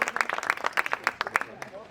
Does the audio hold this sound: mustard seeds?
no